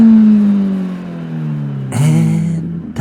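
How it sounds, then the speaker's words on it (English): A Honda CBR600RR motorcycle engine drops in pitch as it decelerates, then blips sharply through a downshift with a burst of intake roar, loud and close from the rider's position. "Let's listen to the downshift."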